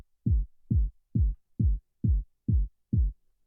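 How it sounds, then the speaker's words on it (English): A low techno kick drum with overdrive and the highs cut sounds punchy and subby. Seven deep thumps repeat at an even pace, alone and moderately loud. "So we have the low kick, which sounds like this."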